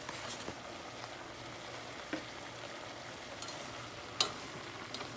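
Shrimp frying in a pan for Vietnamese crepes, giving a faint, steady sizzle with a few sharp clicks and scrapes from stirring, and no talk.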